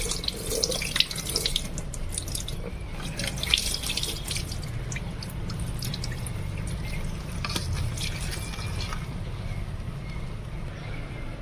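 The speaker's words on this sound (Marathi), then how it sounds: "परत आपल्याला स्वच्छ असं फक्त पाण्याखाली असं हे करून घ्यायचं आहे" Puffed rice is rinsed under a running kitchen tap, with a steady close splash of water into a sink and some dripping, continuous and fairly quiet without talk.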